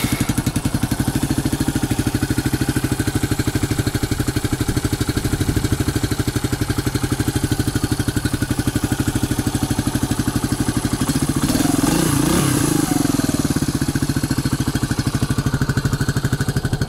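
A cold 1997 Suzuki DR200SE motorcycle engine runs up close, a loud, steady single-cylinder chug with rapid even pulses and a brief rise in revs partway through; no one speaks.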